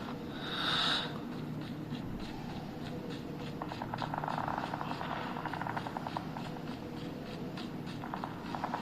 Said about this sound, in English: Enemy stealth chopper inbound.